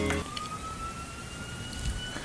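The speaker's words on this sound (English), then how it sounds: "Pause for ambulance." An ambulance siren wails steadily at a distance, its tone sliding slowly upward over a low rumble of background noise.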